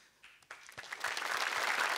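Audience applause at a televised Indonesian stand-up comedy show swells from a few scattered claps into dense, sustained clapping from a large crowd, loud and continuous.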